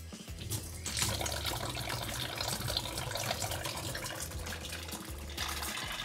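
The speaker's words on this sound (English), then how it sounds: "we're gonna go ahead and turn this on and flush it out" Water rushes steadily out of a home alkaline water filter system being flushed, a continuous close splashing hiss that changes a little in force near the end.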